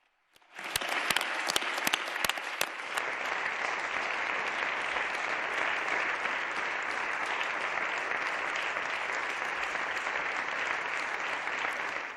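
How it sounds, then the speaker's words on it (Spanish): Deputies in the plenary chamber of the Spanish Congress applaud healthcare workers, a long, dense, even roar of clapping that swells in quickly after a few sharp claps and continues steadily. "Ese que veían era el aplauso que hace nada, unos minutos, ha sonado en el Pleno del Congreso de los Diputados"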